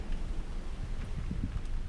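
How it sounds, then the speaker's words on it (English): Steady outdoor wind buffets the microphone in a continuous low rumble while out squid fishing, with no voices present. "It's pretty windy"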